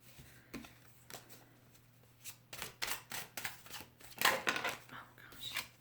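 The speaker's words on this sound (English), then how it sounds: "let me just shuffle these" A deck of tarot cards is shuffled close by, a run of soft irregular riffles and slaps that grow busier toward the middle, quiet against a low steady hum.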